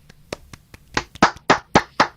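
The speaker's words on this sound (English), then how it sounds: "Let's have another round of applause for Paul Nye." An online songwriters' gathering applauds Paul Nye: a few scattered claps build into several loud, separate clapping bursts close to the microphone, with no voices over them.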